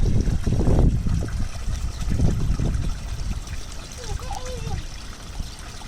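Water running from a village fountain, a steady trickle and splash close by, with a child and an adult talking over it.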